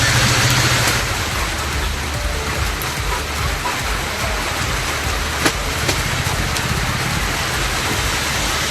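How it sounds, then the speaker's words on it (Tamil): Heavy rain pours down on a coastal village near Sirkazhi in Tamil Nadu, a dense, loud, unbroken hiss with a few sharper drop impacts and no voices. "சீர்காழி அருகே கடலோர கிராமங்களிலும் கனமழை பெய்தது."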